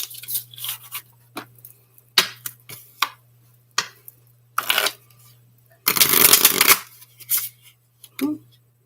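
A deck of playing cards, an Odyssey deck, shuffled by hand: scattered crisp snaps and flicks, then a longer riffle of cards, close up over a low steady hum.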